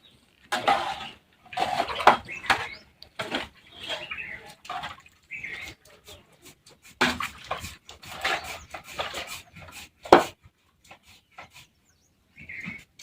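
A batch of potato wafer slices is stirred with a spatula in a pot, giving irregular bursts of wet sloshing and scraping that come and go with short pauses between strokes.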